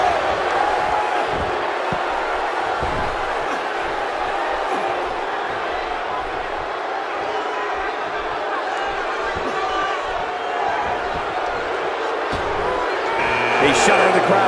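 Large wrestling arena crowd at the 2017 Royal Rumble, a sustained loud roar and murmur of thousands reacting as Goldberg enters, steady throughout with a brief surge near the end.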